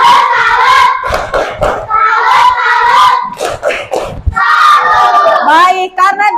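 A classroom of Indonesian schoolchildren claps a rhythmic salute together, with several sharp clap bursts mixed with children's shouting and voices, loud and close.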